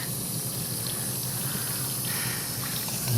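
A dishwasher on its rinse cycle, filling with a steady rushing wash of water that stays even and close throughout with no voices.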